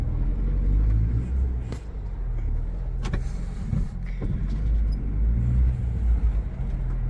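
Car engine idling unevenly just after a clutch pedal return spring and hydraulic system replacement, a steady low rumble with slight surges, heard up close for several seconds.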